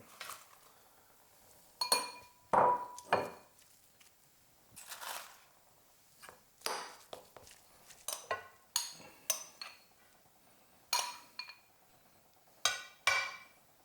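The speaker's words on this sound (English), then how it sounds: "We'll put that into a bowl and we'll smash that up a little bit." Stuffing is mashed in a bowl, heard as a series of irregular close clinks and scrapes of a utensil against the dish separated by short quiet gaps.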